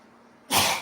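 A single loud sneeze bursts out near the end after a quiet moment.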